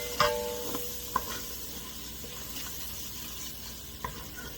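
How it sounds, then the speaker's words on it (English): Flour cooking in melted butter for a roux, giving a soft, low sizzle with quiet stirring scrapes and a few light clinks of a utensil against the pan. "We want to try to cook that flour out for a good minute or so."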